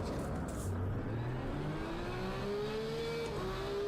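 A McLaren race car engine in Assetto Corsa Competizione drones steadily, its pitch climbing smoothly as it accelerates, loud and continuous with no talk over it.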